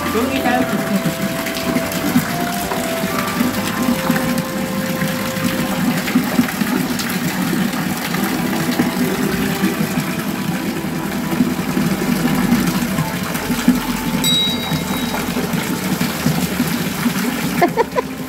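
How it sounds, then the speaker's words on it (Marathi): A hot water spring at Unkeshwar temple flows continuously into a pool, a loud, steady gushing rush that never lets up, with voices faintly present in the background. "गरम पाण्याचे कुंड, कंटिन्यू गरम पाणी वाहते"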